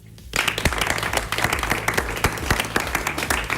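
A crowd bursts into steady applause after a brief quiet start, many hands clapping loudly and continuously.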